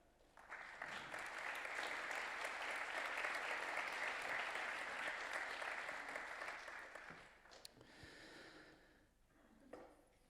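A conference audience applauds to welcome a speaker at a debate on future jobs, a dense, steady burst of clapping that holds strong for about seven seconds, then thins into scattered claps and quiets.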